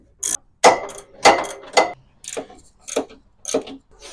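A 1/2-inch drive ratchet works on 10mm headlight bolts of a 2007-2008 Honda Element SC, giving sharp close clicking bursts in an irregular series of short strokes with brief pauses between.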